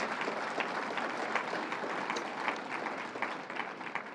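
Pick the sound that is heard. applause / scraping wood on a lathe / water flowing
applause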